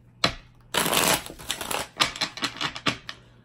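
A deck of playing cards is riffle-shuffled up close, with sharp flurries of rapid flicking clicks arriving in separate bursts, each ending in a soft tap.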